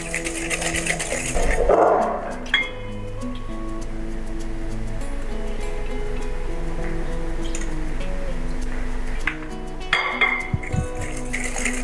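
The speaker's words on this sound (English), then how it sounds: "And you whisk it again." Eggs are whisked by hand in a bowl for fruit cake batter. A steady, continuous metallic clinking and ticking runs throughout, fairly loud and near, over a faint musical background.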